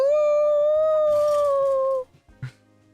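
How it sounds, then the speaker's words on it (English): A wolf howls in the Planet Zoo video game: one long, steady, rising-then-falling tonal howl of about two seconds, fairly clear, followed by faint short yips and soft background noise. "I just hear a wolf just howling just constantly in the distance."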